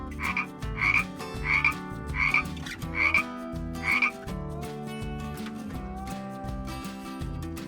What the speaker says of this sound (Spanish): ¿Cuál es el sonido que hace la rana?